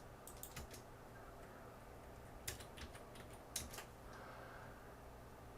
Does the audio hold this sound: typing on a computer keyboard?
yes